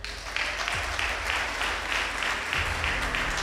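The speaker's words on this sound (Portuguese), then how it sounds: "Pode dar uma salva de palmas para Jesus" Church congregation clapping in a steady, dense wash, with a rhythmic pulse of claps repeating roughly every third of a second and low voices or music underneath.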